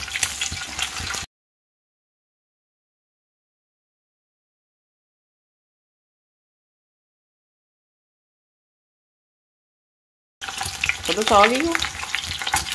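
Honey paratha frying in a pan, giving a steady sizzle for a second at the start and again near the end, separated by a long stretch of silence; a voice speaks briefly over the final sizzle.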